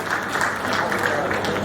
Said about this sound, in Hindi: तालियां बजा करके अकाउंट को पास करें।